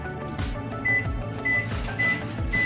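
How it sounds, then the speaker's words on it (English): A microwave oven runs steadily, heating food for a short reheat to melt a topping, giving a continuous low hum with faint periodic high tones, with no voices. "Then I put it back in the microwave for like 10 seconds"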